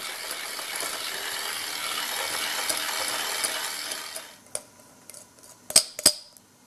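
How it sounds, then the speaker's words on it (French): Homemade hand balm being whisked in a bowl, starting as a continuous scraping rasp for a few seconds, then breaking into scattered clinks and two sharp metallic taps near the end. "on va pouvoir fouetter notre baume"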